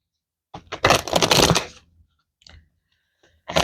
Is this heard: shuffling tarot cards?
yes